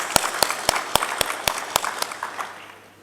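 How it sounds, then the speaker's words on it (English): A room of people at a broadband industry fireside chat starts a round of applause with several sharp, separate claps, then builds into scattered clapping that fades out over a few seconds. "can we give a round of applause"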